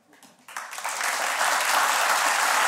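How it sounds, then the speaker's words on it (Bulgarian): Applause from a TV studio audience starts with a few scattered claps and quickly swells into loud, sustained clapping that holds steady to the end. "Този аплодисмент е за всички браво,"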